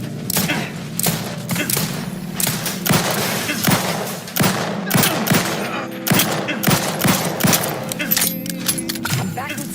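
Rapid gunfire bursts in The Outer Worlds 2, sharp repeated shots crackling over a busy game soundscape with talk running through it.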